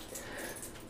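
A pet dog gives a short, faint, high whimper lasting under a second, close by and alone without talk.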